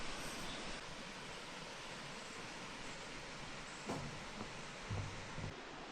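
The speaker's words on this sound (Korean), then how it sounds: "웅장한 폭포 소리를 들으니" Steady, broad rushing roar of a tall waterfall beside a cliffside trail at the Hantan River, continuous and fairly loud throughout with a faint brief knock near the end.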